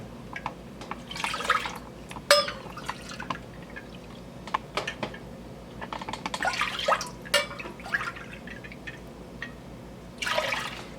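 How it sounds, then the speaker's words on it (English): Meat broth being poured into a pot for soup, gentle intermittent splashing and dribbling with a few louder gushes, close and fairly quiet with no talk. "we're going to use 3 cups of meat broth to start"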